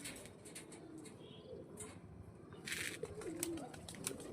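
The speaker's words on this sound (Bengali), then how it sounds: "এই যে আমার 5টা পায়রা" Several pigeons coo softly at a distance, low and faint amid a dim outdoor background, with no voices.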